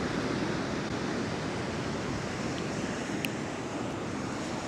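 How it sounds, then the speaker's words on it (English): Steady broadband roar of ocean surf washing onto a beach, continuous and fairly loud with wind noise, no talking. "So today I'm out at the beach."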